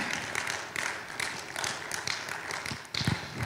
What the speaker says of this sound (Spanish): Un aplauso al Señor, amados hermanos